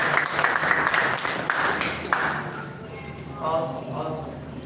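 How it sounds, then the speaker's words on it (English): Audience clapping is heard at first, then thins out and fades, and a voice speaks over the quieter tail. "can you clap for them?"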